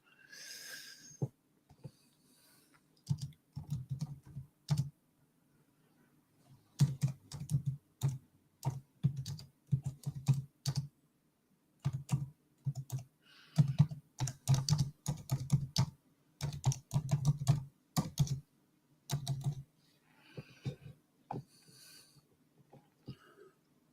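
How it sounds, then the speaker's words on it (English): Bursts of typing on a computer keyboard, rapid clustered key clicks in several runs separated by short pauses, close and moderately loud with no talk over them. "I'm just typing something."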